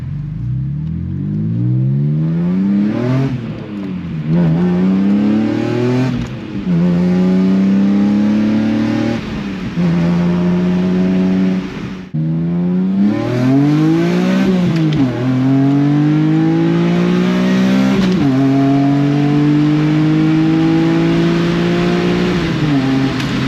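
A 2005 BMW E46 M3 engine revs repeatedly in rising and falling sweeps, loud and close, with burbling exhaust crackle as the revs drop on downshifts, several cycles back to back.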